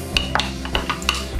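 A caipirinha made with Jose tequila is swirled in a glass without ice, giving a quick run of light clinks and glassy taps, close and distinct, with no talking.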